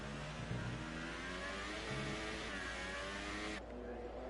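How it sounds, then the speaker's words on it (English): An F1 car engine in F1 2019 revs hard and continuously at high pitch, loud and steady throughout, with a brief drop near the end. "You can see him revving the tits off his car"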